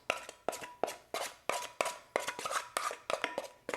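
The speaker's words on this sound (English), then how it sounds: "You're gonna want to scoop out the rest of this." A spoon scrapes and knocks repeatedly against a bowl while scooping out apple pie cake batter, about a dozen sharp close taps in a quick irregular rhythm, with no talking.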